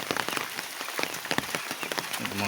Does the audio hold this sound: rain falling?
yes